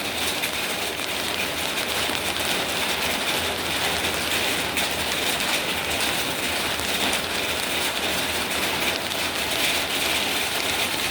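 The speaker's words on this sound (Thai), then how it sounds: "ฝนก็ตกชุ่มชามชุ่มชามเลย" Steady rain falls at night outside a home in Surin, a dense, even hiss of drops on surfaces that continues without pause, fairly loud and close, with no voices.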